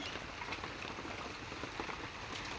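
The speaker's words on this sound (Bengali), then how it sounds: "সারা দিন বৃষ্টি হয়েই যাচ্ছে, থামার নাম নেই।" Steady rain pours down after a full day of downpour that has flooded a courtyard tap area, an even dense hiss of drops with no break and no voices.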